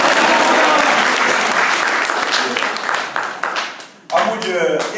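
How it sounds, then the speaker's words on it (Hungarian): A church congregation applauds during a worship service, loud sustained clapping that fades out before a voice speaks near the end. "Tapsoljuk az Úrnak,"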